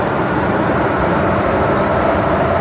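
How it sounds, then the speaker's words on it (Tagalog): Steady loud rumbling roar of a fast-moving train in Hong Kong, with constant rushing wind-like noise throughout and no clear breaks. "Bilis ng tren nila, no?"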